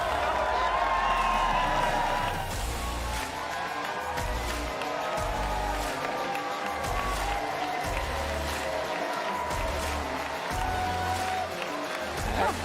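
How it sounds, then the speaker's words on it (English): A crowd at the CPAC USA 2026 conference cheers and applauds loudly, a sustained wash of clapping and shouting that swells early then settles, with amplified music or tones underneath throughout. "I think you got a very loud cheer."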